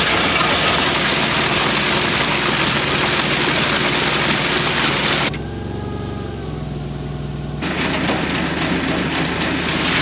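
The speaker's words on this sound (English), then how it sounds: "This auger makes it a lot easier on us when we're loading up fertilizer." A farm auger loading fertilizer for potato planting drones loudly and continuously with a heavy engine-like rumble, briefly dropping to a lower idling tone midway before resuming full strength.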